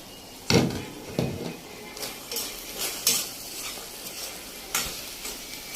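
Minced meat and vegetables frying in a pan while a utensil stirs and scrapes, giving a steady sizzle broken by sharp clinks and scrapes at irregular intervals, close and alone.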